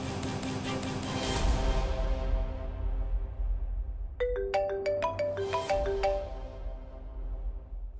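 A phone ringtone plays while an outgoing call is placed, a melodic chiming tune sounding clearly for several seconds over a low background hum.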